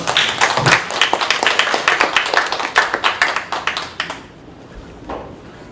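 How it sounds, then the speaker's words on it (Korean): Audience at a symposium on founding a Bible college in Incheon claps vigorously for a speaker coming forward, a dense burst of hand claps that thins and fades out after about four seconds. "나오실 때 힘차게 박수하시겠습니다."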